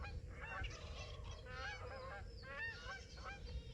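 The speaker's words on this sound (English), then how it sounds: "Can y'all see them geese?" A flock of geese honks repeatedly and overlapping near a fishing boat on the water, the calls fairly faint and somewhat distant over low background rumble, with no talking.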